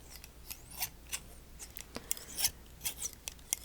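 Close, quiet scissor snips repeat in an uneven rhythm, each a crisp metallic click with soft rasping blade slides between them.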